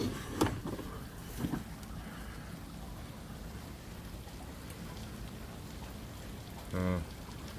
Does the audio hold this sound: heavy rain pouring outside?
yes